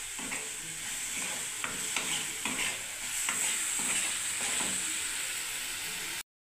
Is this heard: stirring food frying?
yes